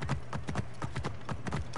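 Horse hooves clip-clop steadily at a walking pace in Assassin's Creed Origins, repeated even strikes close and clear over a low constant ambient bed.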